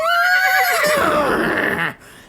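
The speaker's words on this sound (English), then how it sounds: "The horse rears." A horse gives a loud, close whinny as it rears up, a single sustained neigh that falls in pitch and cuts off abruptly near the end, with no other sounds around it.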